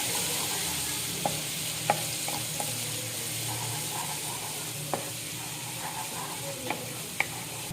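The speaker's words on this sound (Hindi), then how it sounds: "अब मैं इसमें अदरक लहसुन डाल रही हूँ जो मैंने 1 चम्मच लिया था। फ्राई कर लेंगे इसको थोड़ा।" Steady sizzle of ginger and garlic frying in hot oil, with occasional sharp clicks and taps of a spoon stirring in the pan.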